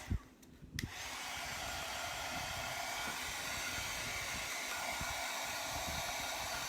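Hair dryer blowing to dry paint, switched on after a couple of brief knocks and then running as a steady, even broadband whoosh close by without a break.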